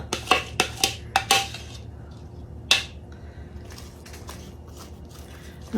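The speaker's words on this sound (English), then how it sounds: "Now we're going to add our jalapenos to it." Jalapenos going into a simmering pot for cowboy candy, heard as a quick run of sharp clinks and clatters, then one louder knock and softer rattles over a quiet background.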